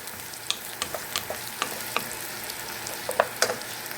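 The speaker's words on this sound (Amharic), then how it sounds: "መጥበስ አለብን በዘይት።" Chopped onions fry in a small amount of oil in a pan, giving a steady low sizzle broken by scattered crackles and pops, close and fairly quiet, with no voices.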